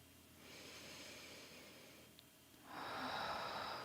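Slow, deep breathing during a guided meditation, with a soft breathy inhale followed by a louder, fuller exhale near the end, close and quiet, with no talking.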